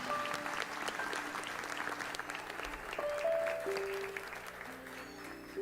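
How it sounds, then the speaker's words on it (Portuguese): Warm applause from a church congregation greets a woman preacher, steady clapping from the crowd at moderate distance, with faint tones from instruments or a keyboard underneath. "com uma calorosa salva de palmas"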